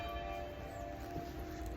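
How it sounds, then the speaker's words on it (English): Church bells ring at the Lourdes sanctuary in France, a steady sustained peal with lingering tonal hum, moderately distant and faint, with no talking over it. "you're like, bells, always bells,"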